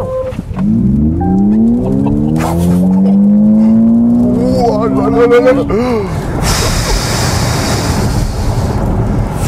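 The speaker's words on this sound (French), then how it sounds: "Je relâche le frein et on devrait réaliser le 0 à 100 en moins de 4 secondes." A Smart #3 Brabus electric car launching hard from standstill, its rising whine sweeping upward with tire noise and wind roar, while someone speaks excitedly over it.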